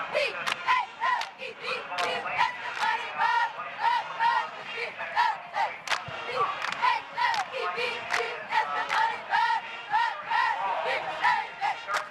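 A crowd at a high school football game, Phoebus Phantoms against Wilson Presidents, chants and shouts a rhythmic cheer in repeated bursts, loud and fairly close, with voices calling throughout.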